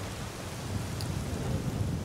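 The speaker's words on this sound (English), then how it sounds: "Yup, it's definitely raining." Steady rain falls in the fantasy game Skyrim, with a low rumble of thunder underneath, a dense even wash heard up close with no voices.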